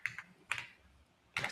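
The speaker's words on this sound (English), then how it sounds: "Let's just type this in here." Brief bursts of keystrokes on a computer keyboard, quiet and close, in three short clusters separated by pauses.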